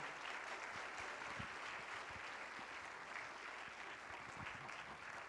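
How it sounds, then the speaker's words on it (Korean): Steady applause from a church congregation at a Thanksgiving chapel service, a continuous wash of clapping that stays even throughout, heard from a distance. "박수 한번 쳐주세요"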